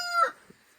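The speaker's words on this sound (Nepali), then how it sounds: "भाले के कराएको" A rooster crows once, a short, fairly near call that quickly fades, followed by a faint thump.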